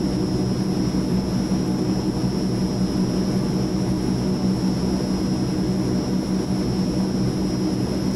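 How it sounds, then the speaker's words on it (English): Steady turboprop engine drone from an AzurPoly C-160 aircraft in Microsoft Flight Simulator, a loud continuous hum with a high whine running unbroken, with no voices. "Those turboprops sound good."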